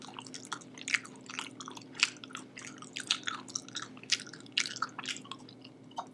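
Crunchy sushi being chewed close to the mic in a mukbang setting, a steady run of wet, crisp bites and chews repeating for several seconds over a faint background hum.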